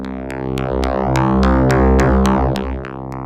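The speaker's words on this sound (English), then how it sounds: "You can hear it sounds completely different, and that's because we've got this wave folder thing here" A steady, buzzy synth bass tone run through a wave folder, with a harsh, folded timbre, pulsing with regular clicks as its brightness slowly shifts.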